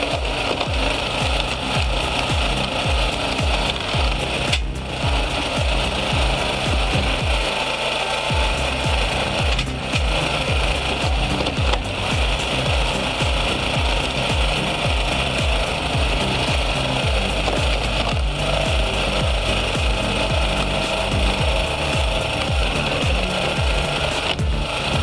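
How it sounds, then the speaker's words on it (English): A hydraulic log splitter made by Samokvalov working through wooden logs, giving a loud, continuous mechanical grinding and cracking with rapid percussive rattles, close and unbroken with no talking. "The Samokvalov wood splitter uses hydraulic power to slice through logs like butter, making firewood prep a breeze."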